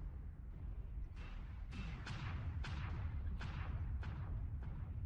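Anti-missile system firing in the MechWarrior Online game, a series of sharp, rapid bursts repeating at irregular intervals over a low rumbling background of combat.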